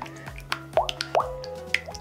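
Big bubbles plopping and popping in a weird green homemade puffy paint mixture, a run of close, distinct wet plops spaced irregularly and heard alone.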